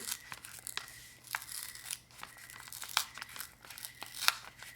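Crinkling and tearing as a package is peeled open, a run of sharp crackles and rips of plastic or paper, close and fairly quiet, with no voices.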